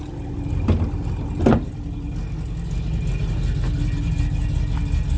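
1977 Rover 3500 police car with its engine running, a low steady idle rumble close by, with two brief sharper knocks near the start before the hum settles.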